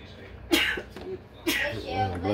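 Two sharp sneezes burst out about a second apart, close and loud, followed by a person talking briefly.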